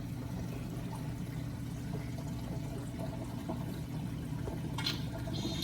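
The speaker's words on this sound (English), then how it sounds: "now that water is coming directly from up there, dropping all the way here" Continuous rushing of water falling and pouring down into a reef aquarium sump, steady and fairly close, with no voices.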